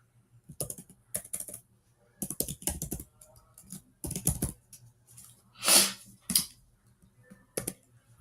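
Keystrokes on a computer keyboard while writing MATLAB code, coming in irregular close bursts of clicks with short pauses and a sharper, louder clack near the end; no one speaks.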